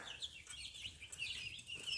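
Soft, fairly quiet clucking from a laying hen, a run of brief murmuring calls repeating with no talking over it.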